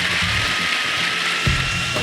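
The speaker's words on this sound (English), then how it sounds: "they go in the food processor, and I'm just gonna work them to, like I'd say, coarse powder" A food processor grinds pistachios and cardamom seeds toward a coarse powder with a loud, close, steady whirring rattle that runs without a break.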